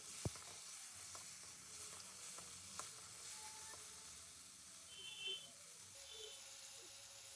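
Steady sizzling of chopped tomato sautéing in a hot pan for chutney, with a few sharp clinks of a utensil and no voices.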